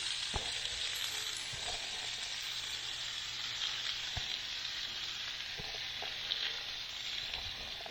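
Butter and vegetables sizzle on a 22-inch Blackstone griddle in a steady, even hiss, broken by occasional faint taps and scrapes of a spatula on the hot plate.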